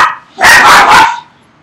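Max, a young dog of one to two years at an animal shelter, lets out one loud, close bark that breaks into a couple of quick pulses, with a short whine just before it.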